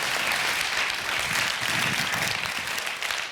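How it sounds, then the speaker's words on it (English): An audience at an innovation award event applauds a pitcher, a dense, sustained burst of many hands clapping that fills the room, fairly loud and close throughout. "Applause for Floris, please."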